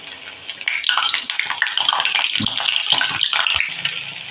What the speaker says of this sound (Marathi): छान खमंग तळून काढायचे